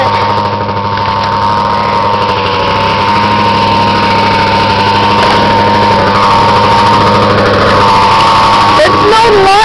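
A 1991 Mercury Grand Marquis engine runs just after a cold start in snowy weather, a loud, steady close-up idle with a persistent whine and hum that barely changes.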